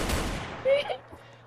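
Rapid gunfire in a video game about chasing bank robbers: a dense, loud burst of shots at the start that fades and thins out, with a voice speaking over it.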